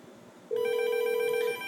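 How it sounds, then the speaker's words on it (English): An analog phone on extension 9001 rings through an SRX dialing plan. After a short quiet stretch, one loud, steady electronic tone holds for about a second, then drops away. "I'm dialing extension 9001, and it's ringing"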